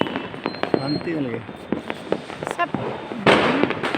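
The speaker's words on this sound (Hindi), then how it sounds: "चारों तरफ से जो पटाखों की जो आवाज़ें आती हैं" Diwali firecrackers and fireworks pop and crackle all around during a family celebration, with a loud burst near the end, while people talk close by over the noise.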